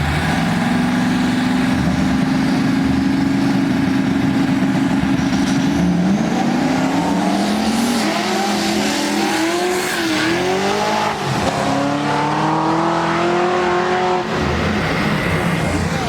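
Cars running a street-style no-prep drag race on a rocky, loose surface at Little River Dragway, engines droning loudly and steadily throughout with rising revs and shifting pitch, no talk.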